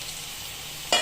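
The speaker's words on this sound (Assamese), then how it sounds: "ভাজি দিওঁ এনেকৈ" Spiced, salted potato slices with turmeric frying crisp in a pan, giving a low steady sizzle for nearly a second before a sudden louder burst of hiss at the end, with no talking.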